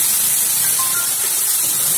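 Ginger and garlic sautéing in a pan for chicken curry, a steady hissing sizzle, close and fairly loud, unbroken throughout.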